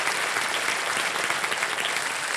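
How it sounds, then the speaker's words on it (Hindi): Dense, steady applause from a TV game show studio audience on KBC, loud and continuous throughout the short stretch. "तालियां बज जाए"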